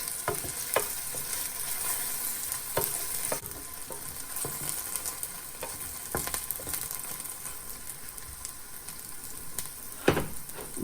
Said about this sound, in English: we may put in the ham, a little stir fry until you see their color change and fragrant